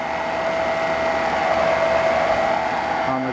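A Dirt Devil Power Reach vacuum cleaner found at the curb runs with a steady loud motor whine and airflow rush, close and unbroken for a few seconds, with no speech.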